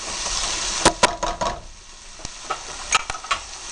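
Beans tipped into a pan of frying onions sizzle steadily, with sharp clatters and knocks of stirring against the pan over the hiss, no voices.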